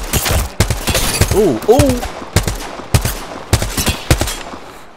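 Rapid bursts of gunfire from a video game gun, loud and close, in several quick volleys across a few seconds, with a player's brief exclamations in between.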